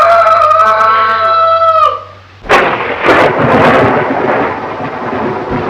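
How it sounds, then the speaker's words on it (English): Thunder crashes in a storm in a 1932 old dark house, a loud sudden crack followed by a long heavy rumble, after a stretch of sustained tonal sound. "Storm's just as bad as ever, isn't it?"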